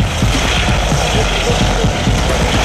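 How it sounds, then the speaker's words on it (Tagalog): A helicopter flies overhead during a Survivor-style outdoor shoot, its loud, continuous rotor roar carrying a fast, choppy low pulse throughout. "Yung helicopter kung saan nakasakay si Paulo Billones, yung host ng Survivor"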